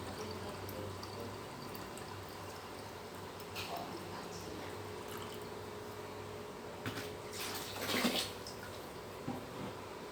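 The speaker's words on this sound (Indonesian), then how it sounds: "Kita isi airnya di sini" Water runs into a container while mixing hydroponic AB Mix nutrient solution, a steady broadband rush with a louder, splashier surge near the end.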